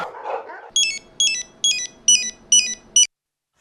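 A telephone rings in a home in a Hindi sitcom: six sharp, bright electronic trills evenly spaced, loud and close, after a brief murmuring sound at the start, then cutting to silence.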